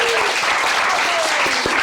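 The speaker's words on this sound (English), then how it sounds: "give us a round of applause." Audience applause at a university games awards ceremony in West London, a dense, steady wash of clapping filling the room for about two seconds at constant loudness.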